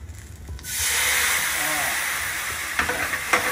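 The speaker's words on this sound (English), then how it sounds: "I'm going to throw this red wine in" Nebbiolo red wine poured into a hot pan to deglaze it, setting off a sudden loud, close sizzle that hisses steadily for a few seconds, with light clinks near the end.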